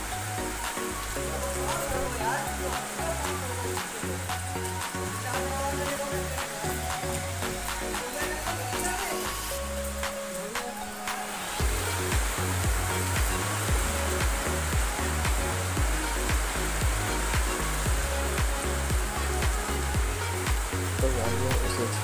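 Steady rain hisses and patters continuously, loud and close, layered with a thumping rhythmic music beat and occasional voices.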